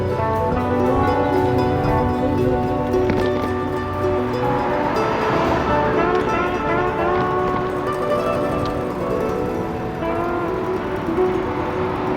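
A train rumbles past nearby with steady rolling clatter and metallic squeal, loud and continuous throughout without any voices.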